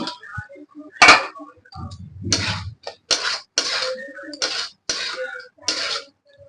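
A lid is lifted off a pot of pumpkin and prawn curry, giving a sharp metallic clank near the start, followed by a voice speaking in short phrases close by.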